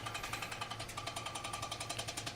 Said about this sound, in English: push the hammer as you forge in the direction you want the metal to go